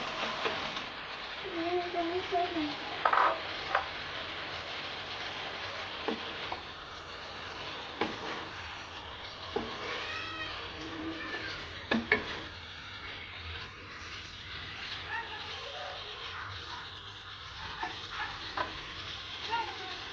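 Raw green bananas, already lightly fried with salt and turmeric, go into sautéed spices in a pan. A steady close sizzle runs throughout with scattered stirring scrapes and clinks, and a voice is faintly heard in places.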